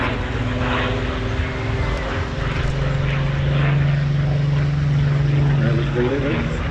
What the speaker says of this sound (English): So Spitfire now flying